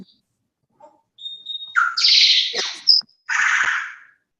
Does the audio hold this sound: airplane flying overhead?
no